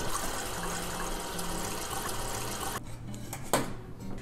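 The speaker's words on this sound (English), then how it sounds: "I'm going to wash the boiled eggs in cold water." Cold running water pours steadily over boiled eggs in a bowl, a continuous close splashing and trickling that thins out near the end, broken by one brief clunk.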